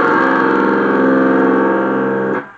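A heavily distorted electric guitar in C G C F A D tuning sustains a thick, loud chord for a couple of seconds before it cuts off abruptly.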